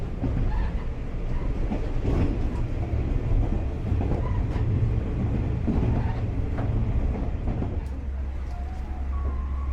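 A Japanese local train runs steadily on its rails, a continuous low rumble with faint clicks and rattles of the carriage, fairly close and unbroken, with no voices.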